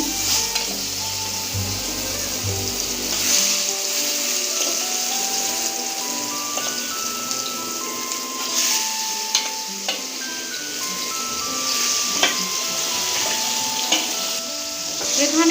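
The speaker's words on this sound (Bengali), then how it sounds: "এবার বাইম মাছটা আমি ভেজে নেব তেলে ছেড়ে দিচ্ছি" Baim eel pieces frying in hot oil, a dense, even crackling sizzle close up that carries steadily throughout, broken by an occasional clink of a utensil.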